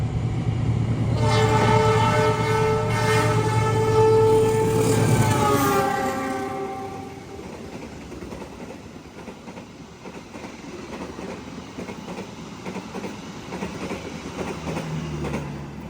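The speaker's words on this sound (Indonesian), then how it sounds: "Akan segera melintas langsung di jalur 2, di jalur sebelah sini, kereta api Brawijaya dari Malang tujuan Gambir." The Brawijaya passenger train from Malang to Gambir passes through Sumberlawang station, opening with a long, loud horn blast. Its tone bends as the train roars by, then gives way to a steady rumble and clatter of the cars.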